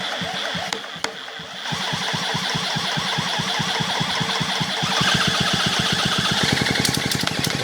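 A Diesella diesel engine cranks over and catches, settling into a fast, steady chugging beat that grows louder and harder toward the end, with a couple of sharp clanks early on.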